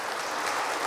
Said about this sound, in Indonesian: Boleh diberi tepuk tangan Bapak Ibu untuk di atas 8 ini.